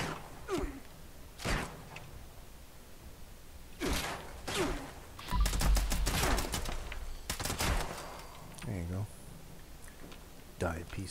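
Gunfire from a weapon in Fallout 76: several sharp separate shots at irregular intervals, some with ringing tails, mixed with grunts and game noise.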